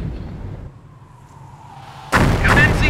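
Artillery barrage in Company of Heroes: after a quiet stretch with a faint hum, a loud, sudden burst of heavy booming fire erupts and continues with rumbling, crackling detonations.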